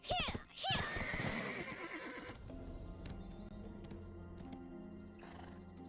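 A horse in the video game Black Desert Online gives a loud, close whinny, followed by rhythmic hoof clip-clops and ambient game sounds.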